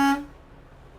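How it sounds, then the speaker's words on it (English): A truck's city horn gives a short, loud tonal blast in the opening fraction of a second, then cuts off into quiet cab background. "Check my city horn and my air horn"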